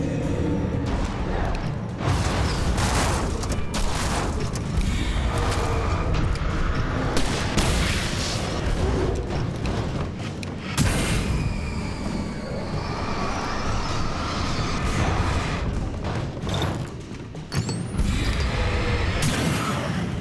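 Possessed refrigerator attacking in the Alan Wake Remastered video game: a dense, constant barrage of loud booms, bangs and creaking mechanical clatter fills the whole stretch, with repeated sharp impacts and brief dips.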